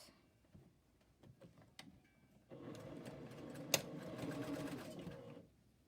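A sewing machine stitches a seam at a 3/8 inch allowance. A few light ticks come first, then the motor hums in a steady, close whir for about three seconds before stopping.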